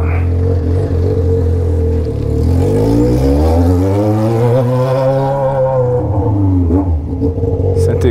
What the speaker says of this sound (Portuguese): O busão fazendo curva.